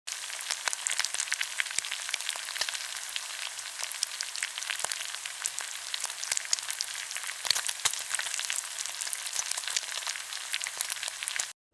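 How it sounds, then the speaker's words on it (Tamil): Onion vada fritters, lightly coated in batter, deep-frying in hot oil, giving a loud, steady bubbling sizzle with dense crackling pops throughout, close and continuous with no talking. "இப்போது இதை சுட சுட எண்ணெயில் போட்டு பொரிச்சிடலாம்."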